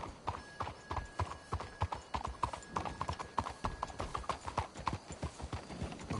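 Horses' hooves clip-clopping at a walk in Red Dead Redemption 2, a steady uneven rhythm of distinct hoof strikes, with a faint whinny-like tone in the background and no talk.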